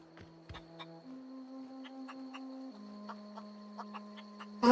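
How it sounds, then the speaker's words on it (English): Clucking from a chicken in the video game Outer Worlds, a few short clucks spaced irregularly over a steady low game tone, fairly quiet, with a louder burst right at the end. "Chicken!"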